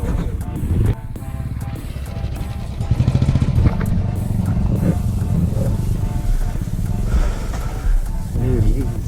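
A Royal Enfield Interceptor 650 motorcycle engine rumbles steadily at close range, mixed with wind buffeting and road noise as the bike rides along.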